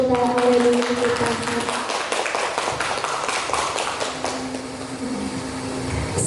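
Audience applause at a seminar orientation event in Surakarta, a broad steady wash of many hands clapping together that continues for several seconds before easing slightly, with room hum underneath.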